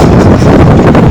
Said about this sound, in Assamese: ৰাস্তাত বিৰাট ধুনীয়া বতাহ মাৰি আছে